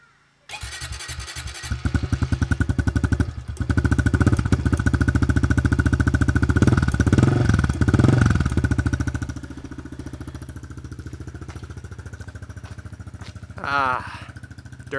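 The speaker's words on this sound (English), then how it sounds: "Let's cold start the pit bike. Mind you, completely stock exhaust." A pit bike with a completely stock exhaust is cold started: a starter burst, then the engine catches into a loud, rapid, buzzing idle that swells with a couple of blips before settling lower, close up, with a brief voice near the end.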